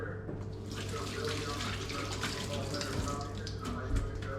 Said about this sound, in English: What I'll do, I'll just wash my hands again.